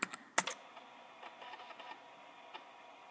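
Computer keyboard keys pressed to type a short command during MS-DOS 6.22 setup, a few sharp, close clicks at the start followed by fainter, scattered taps.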